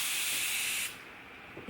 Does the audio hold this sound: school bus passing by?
no